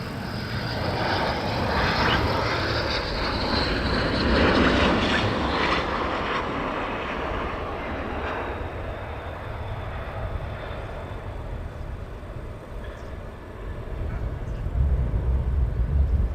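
Military aircraft engines spooling up at RAF Lakenheath, a broad, rising roar that swells, eases slightly, then builds again, heard at a moderate distance.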